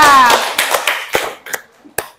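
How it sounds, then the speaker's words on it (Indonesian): Scattered hand claps from a small classroom audience during a teaching practice session, a few sharp separate claps rather than full applause, following a brief voice at the start. "Tepuk tangan untuk Dita."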